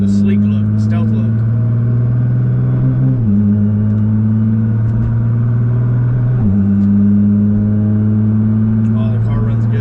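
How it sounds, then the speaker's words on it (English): An automatic car idling on a base tune with all settings off, a loud, steady low engine drone that shifts pitch slightly a couple of times, running continuously and close with faint voices. "Oh, the car runs good, and that's with everything off."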